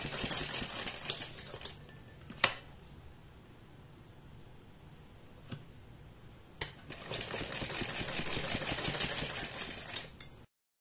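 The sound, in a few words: sewing a basting stitch around buckram on cloth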